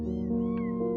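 A stray cat meows once, a clear, close, drawn-out cry with a bending pitch, heard alone with no talk.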